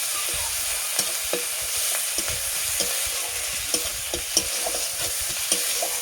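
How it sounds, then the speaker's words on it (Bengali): Ginger paste fries in a pan with a constant loud sizzle while a spatula stirs it, scraping and tapping at an irregular rhythm, close up with no talk. "আদাটাও ভালো করে একটু ভেজে নেব।"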